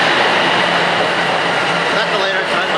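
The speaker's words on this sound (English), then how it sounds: "Going into the subway." A subway train station, filled with a loud, continuous rumbling roar of rail noise that holds steady for the whole short stretch.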